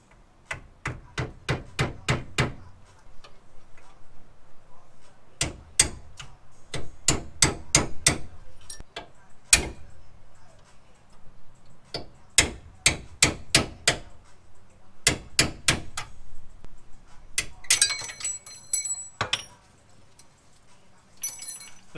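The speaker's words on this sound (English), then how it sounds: "the best way that I've found to take out the C-clip is to jam a screwdriver in one side and the other side chisel it out" A hammer drives a screwdriver and chisel against a ball joint C-clip in short bursts of sharp metallic strikes with pauses between, ending in lighter clinks.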